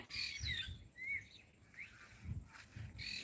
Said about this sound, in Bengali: দেখুন পাখি গাছের ডালে বসে রয়েছে